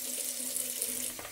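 Cold water runs from a tap to rinse a razor, a steady soft hiss of flowing water with a faint tonal hum beneath, tapering slightly at the end.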